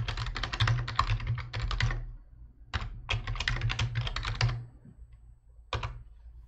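Close, brisk typing on a computer keyboard during a hardware and software setup, rapid key clatter in several bursts separated by short pauses, ending with a single isolated keystroke.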